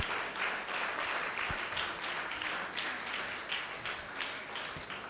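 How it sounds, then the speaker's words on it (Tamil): Audience at a church Christmas program claps together in a sustained, dense round of applause, fairly close and steady throughout, with no speech over it. "ஸோ அவருக்கும் எல்லாம் கைத்தட்டி ஒரு தேங்க்ஸ் சொல்லிடலாம்"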